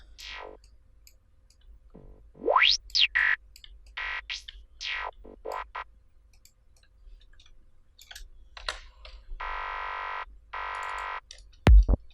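Hollow, bandpass-filtered noise bursts from a looped crash cymbal sample repeat in short loops, mixed with sweeping electronic tones and scattered clicks, fairly quiet with no voices.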